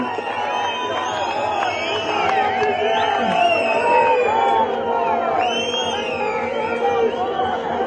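Large crowd at a Congress party public rally in Shimla, cheering, whooping and chattering continuously with a dense, steady roar of voices and occasional shouts rising above it.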